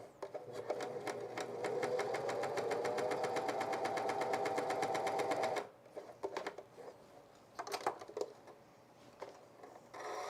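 A sewing machine stitching a skort runs in a fast, steady, rhythmic chatter for several seconds, then stops, leaving a few short bursts of stitching and handling noise.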